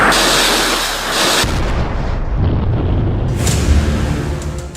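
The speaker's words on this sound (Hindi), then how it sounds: "फास्ट बोट से एंटी शिप मिसाइल फायर होती है और फिर टारगेट से जा टकराती है" Anti-ship missile launched from a fast boat and striking its target: a loud, sustained rushing roar that cuts abruptly and gives way to a rumbling, booming blast that rolls on and slowly fades.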